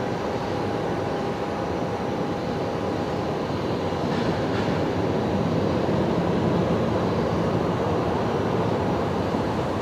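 Airliner bound for Canberra departing Brisbane Airport on the legacy runway 19 left at night, a steady broad roar of jet engine noise holding constant and fairly loud throughout, with no voices.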